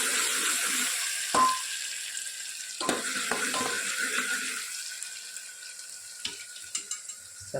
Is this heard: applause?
no